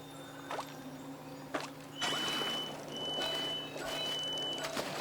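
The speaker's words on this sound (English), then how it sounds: "All that beeping, that was my tumble dryer, if it comes up on the video." A tumble dryer beeps in repeated short, steady electronic tones at moderate distance, with a low hum running underneath and a few clunks in between.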